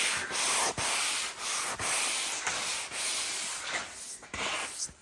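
Steady abrasive sanding of wooden front door frame mouldings and draught-strip profiles, a continuous close scratchy rasp broken by short pauses and repeated strokes, with no talking.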